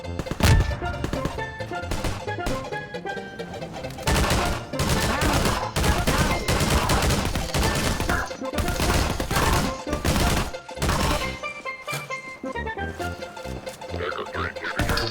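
Rapid volleys of gunfire in a Garry's Mod round between teams including the Resistance, dense repeated shots and bursts running nearly continuously at high level with game music or effects underneath.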